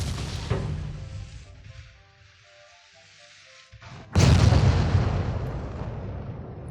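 Naval gunfire in the warship battle game Ultimate Admiral Dreadnoughts: a sharp distant boom, a quieter lull with faint tonal effects, then a heavy close cannon blast that rolls on loudly.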